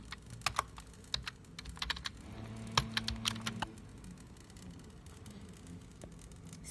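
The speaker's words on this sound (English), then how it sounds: "now let's try to type some letters in the S98." A keyboard connected by OTG USB to an S98 is typed on, giving a run of quick, uneven key clicks close by against a faint background hum.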